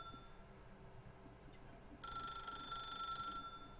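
A telephone rings in The Stanley Parable, a steady electronic bell tone that starts partway through and holds for over a second over a faint background hum.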